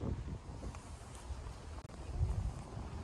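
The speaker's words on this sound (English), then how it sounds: "a bit windy, do apologise for the wind." Wind gusts buffet the microphone on an evening canal walk near a museum and swing bridge, a low, rumbling, uneven roar that swells and eases throughout without speech.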